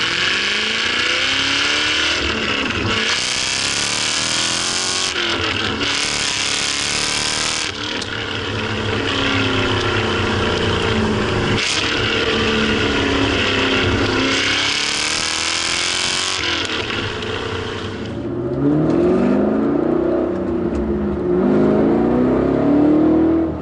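Loud, close engine note of a Walkinshaw Performance VXR8 revving and accelerating through repeated gear changes, sustained and roaring throughout with no voices.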